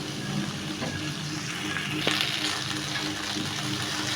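Okra frying in a pan for achari bhindi, a steady soft sizzle with faint crackle running throughout at a constant level, no talking.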